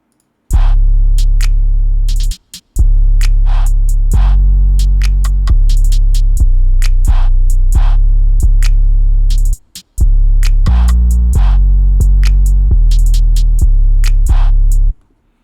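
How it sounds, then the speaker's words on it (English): A loud pluggnb hip-hop drum pattern with booming 808 bass notes changing pitch, crisp hi-hats and snares, playing steadily with two brief dropouts. "this is what the drums sound like all together"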